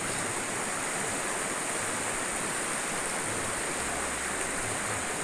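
Cidikit River flowing at its upper reach beside a bridge, a steady broadband rush of water that stays constant and fairly close throughout, with no voices.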